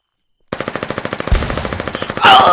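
Rapid machine gun fire in a video game, a fast even burst of sharp shots close up, followed by a heavier louder surge of gunfire at the end.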